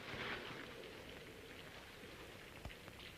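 Rain falling on city streets, a soft steady hiss of drops on pavement with a few louder splashes, faint and continuous.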